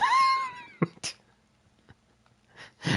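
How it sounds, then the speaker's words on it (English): A Minecraft ghast's high, wavering cry resembling a cat's meow, heard briefly at the start, followed by a few soft thumps and quiet gaps. "That ghast sounded like my cat."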